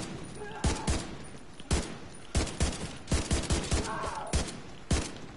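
Video game gunfire in The Division 2 crackles in repeated sharp bursts of shots, close and fairly loud, in an irregular rhythm under a faint background of game sound.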